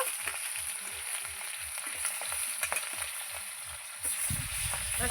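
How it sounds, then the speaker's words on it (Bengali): Katla fish fries in hot oil in a kadai with a constant crackling sizzle heard up close, a faint rhythmic low thudding beneath it, and a brief louder swell near the end. "ভাজা হতে থাক।"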